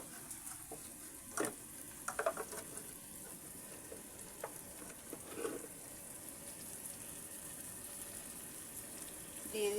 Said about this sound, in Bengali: এবার আমি আদা রসুন এবং পেঁয়াজ বাটাটাকে ভেজে নিচ্ছি